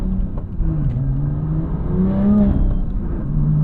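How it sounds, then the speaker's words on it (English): A modified 2018 BMW M2 (F87) with a very loud aftermarket exhaust accelerates, its engine note rising in pitch under throttle and staying loud and close throughout, with no talking. "part of that too is this really loud exhaust"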